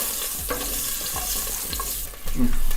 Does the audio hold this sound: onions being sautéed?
yes